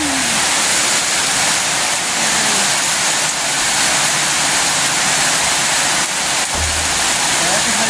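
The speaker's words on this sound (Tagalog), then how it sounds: "Sobrang lakas ng ulan!" Heavy rain coming down in a loud, constant roar, dense and unbroken at close range, with people talking over it.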